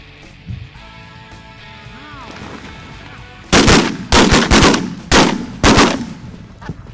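Shotguns fire during a goose hunt, four or five loud, sharp blasts in quick succession after a quieter stretch of ambient noise.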